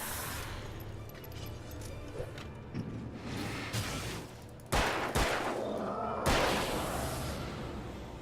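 Gunfire in the video game Alan Wake, with bursts of shots cracking loudly around the five- and six-second marks over a murky, rumbling game background.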